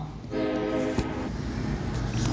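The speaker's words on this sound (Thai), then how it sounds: "ต้องหลบรถไฟอะ" A train rushes past in the video game Blue Archive, a steady loud roar with a brief horn-like tonal note near the start and a single sharp clank.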